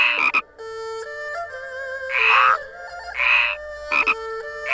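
Frogs croaking during a frog race minigame in Shenmue III, loud close croaks in repeated bursts over a sustained tonal game music bed, with short pauses between calls.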